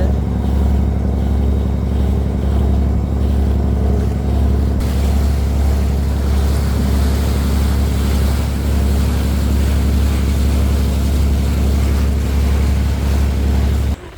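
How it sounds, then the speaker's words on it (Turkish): A tour boat motoring out of Fethiye harbour, its engine a loud, steady low drone mixed with rushing water and wash for the whole stretch, with no talk over it. "Teknemiz yola çıkıyor şimdi."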